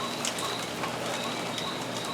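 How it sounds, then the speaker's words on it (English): Steady rain falling outside an open window during a thunderstorm, a continuous close hiss of drops with faint bird calls scattered through it. "just the sound of that rain coming down"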